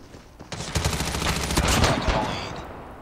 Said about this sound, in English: It's one of the brand new SMGs incorporated into Season 7 for this game.